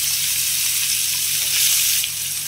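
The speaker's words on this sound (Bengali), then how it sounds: "স্লাইস করা পেঁয়াজ দিয়ে দিলাম" Sliced onions dropped into a hot pan for a dhaba-style mutton curry give a loud, continuous sizzle that swells briefly near the end, with no voices.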